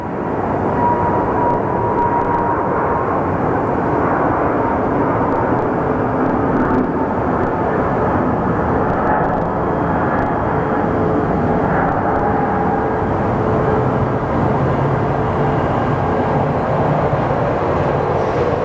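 An airliner departs Phoenix Sky Harbor Airport for San Diego, a loud, steady jet roar that holds evenly throughout with a broad rumble.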